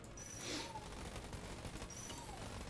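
Rapid gunfire in the bullet-hell game Enter the Gungeon, a busy stream of small shots with whistling projectile tones at two points, fairly quiet and unbroken by speech.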